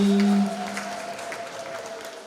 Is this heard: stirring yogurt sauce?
no